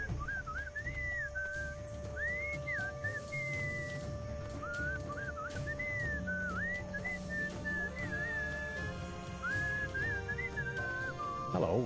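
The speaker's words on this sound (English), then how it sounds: "What is that enchanting whistling sound?" A melodic whistling tune plays in the Sam and Max Beyond Time and Space video game, a steady run of sliding, warbling phrases over a constant hum and soft background music.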